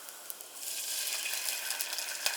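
Oyster sauce mixture hits hot garlic and oil in a pan, giving a steady bright sizzle with a few small pops and crackles throughout, close and alone.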